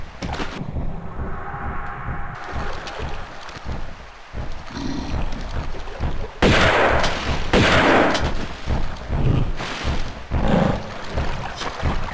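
Shotgun blasts in the remastered Tomb Raider II, Ice Palace level, loud booming shots spaced a couple of seconds apart with game ambience between them and no talking.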